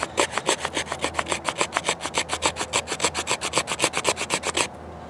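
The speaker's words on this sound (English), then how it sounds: "I'm going to use the back of this spine here to get some shavings" A Morakniv knife spine scrapes shavings off wood in fast, regular rasping strokes, about eight each second. The scraping is close and dry and runs steadily until it stops abruptly near the end, with no talk.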